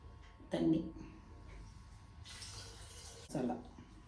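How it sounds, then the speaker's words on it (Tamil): Water pours into a soup maker holding onion, tomato, salt and pepper for pumpkin soup, in two short splashing bursts a few seconds apart, near and moderately loud. "தண்ணி,"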